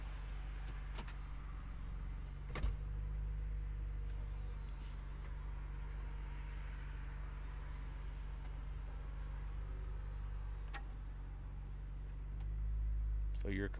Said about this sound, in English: We'll go ahead and open the top from inside the car just so you guys can hear everything